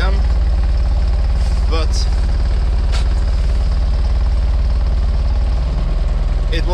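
Wheel loader engine with a stuck, frozen throttle revving above idle, a loud steady low-pitched drone running continuously throughout, with a few brief voice bursts on top.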